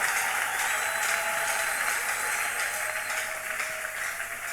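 A congregation at a church prayer retreat applauds: dense, continuous clapping from a crowd, steady throughout and fading slightly near the end, with no voices.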